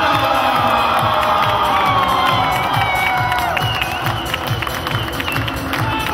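Spectators at an under-8 youth football cup final in Riga cheer, whoop and applaud to welcome the champion team, a loud, continuous crowd roar with children's shouts, rhythmic clapping and faint public-address talk underneath.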